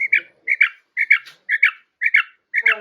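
Japanese quail giving a repeated call, six evenly spaced two-part chirps about half a second apart, close and clear with no talking.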